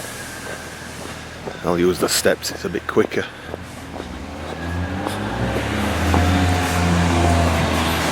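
A train pulls away toward Sheffield, its low engine rumble and rising drone building through the second half, after a close voice speaks briefly over it.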